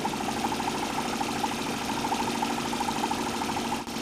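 A homemade Stirling engine mounted on a bicycle runs steadily, giving a continuous close mechanical hum with a faint rhythmic pulse and no voices.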